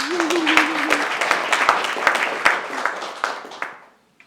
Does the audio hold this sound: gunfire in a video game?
no